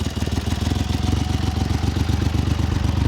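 A 1971 Triumph Trident 750 T150V three-cylinder motorcycle idling nearby, with a steady, even, throbbing exhaust pulse and a light mechanical clatter throughout.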